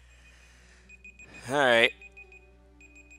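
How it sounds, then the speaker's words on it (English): A kitchen-style timer alarm beeps in short repeated high tones through most of the moment, with someone speaking briefly over it in the middle. "I'll turn off my timer just for a minute."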